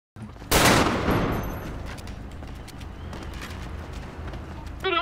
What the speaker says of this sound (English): Shoot it, we're shooting.